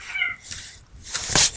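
A male cat meows and yowls while trying to mount another male cat indoors, giving two or three close, strained calls with a louder cry at the end.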